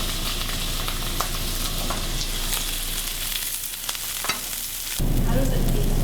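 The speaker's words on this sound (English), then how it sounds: "So I'm gonna let those vegetables sweat." Fennel, carrot and onion sweat in a pan with a steady low sizzle and frying hiss, a few faint clicks of utensils against the pan, and the sizzle swells louder and fuller near the end.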